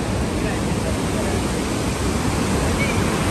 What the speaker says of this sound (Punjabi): ਪਾਣੀ ਵਧੀਆ ਚੱਲਣ ਡਿਆ ਦੇਖੋ ਜੀ